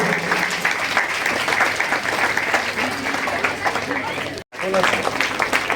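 Sustained applause from a gathered crowd at an outdoor ceremony honouring a guest beside a rural sub-health centre, steady and fairly close, with a brief dropout near the end and voices mingled in.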